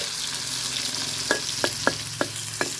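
Pork fries in hot oil with a steady hissing sizzle, joined partway through by five sharp, evenly spaced clicks or taps, near and fairly quiet, with no talking.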